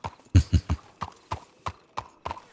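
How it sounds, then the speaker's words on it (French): A horse's hooves clip-clopping on hard ground, a quick cluster of loud close strikes followed by evenly spaced, lighter hoofbeats fading slightly, with no talking. "j'ai entendu un cheval"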